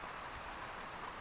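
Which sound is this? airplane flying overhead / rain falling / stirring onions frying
rain falling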